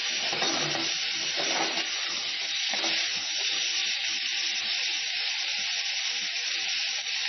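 Meat curry stirred in a hot pan gives a continuous sizzle with scraping strokes early on, alone and fairly close throughout.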